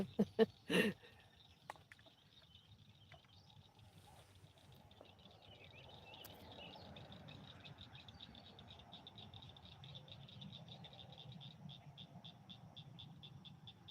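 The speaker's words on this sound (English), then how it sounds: "I hear the frogs already." Frogs croak in the evening beside water at a fishing spot, a faint, steady pulsing chorus in the distance. A few brief knocks come near the start.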